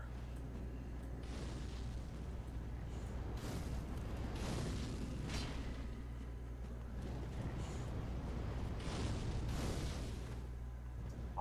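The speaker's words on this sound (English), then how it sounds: "Getting hit by fireballs." Fireballs burst one after another in Dark Souls 3, with loud, booming explosions that come in waves over a constant low rumble and roar of fire, and no talk.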